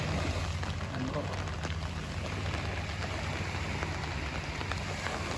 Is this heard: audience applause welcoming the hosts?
no